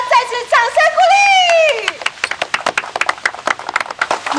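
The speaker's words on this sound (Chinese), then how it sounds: "再次掌声鼓励" Audience applause at a village bracelet contest, a burst of many hands clapping close by that follows a short spoken exclamation.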